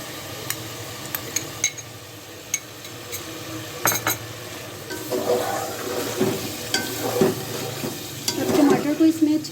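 Chicken cooking in a pan with garlic, ginger and chopped tomatoes: a steady low sizzle with intermittent spatula scrapes and clinks, growing busier and louder toward the end.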